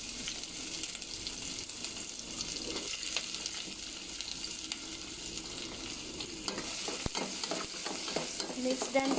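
Chopped onion and garlic frying in a pan for a Filipino binagoongan dish, giving a steady broadband sizzle with a few utensil scrapes and knocks as it is stirred, growing slightly louder toward the end.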